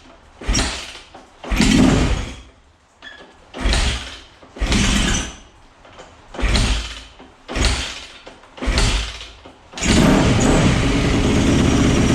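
A 2001 Yamaha YZ426F dirt bike, fed only the fuel in its carburetor line, fires in a series of loud bursts that rise and fall roughly once a second, then settles into a steadier run at the end.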